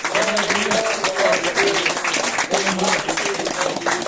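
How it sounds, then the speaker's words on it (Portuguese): Congregation clapping in church during worship, a steady wash of applause and claps running throughout, mixed with voices speaking and singing over it. "palmas para o Senhor Jesus"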